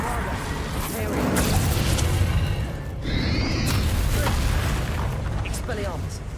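Bombarda blasting-spell explosions in the video game Hogwarts Legacy: heavy, booming bursts over a continuous loud rumble, with a voice talking over the action.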